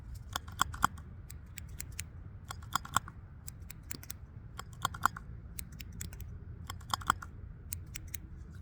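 Small scissors snip and click in quick, close, crisp bursts with brief pauses between them, soft and intimate against a quiet background, with no talking.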